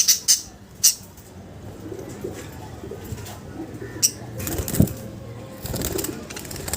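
Pet pigeons make soft low cooing calls against a quiet indoor background, along with a few sharp rustles and clicks near the start and again partway through.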